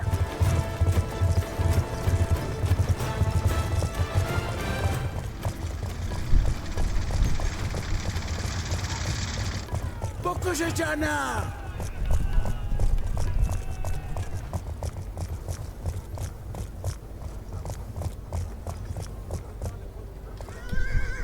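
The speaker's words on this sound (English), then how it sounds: "Mason, can't that horse go any faster?" Horse hooves clip-clop at a steady galloping pace with occasional whinnies, over a busy layered soundscape of rumbling and ambient noise, in the video game Call of Duty: Black Ops 2.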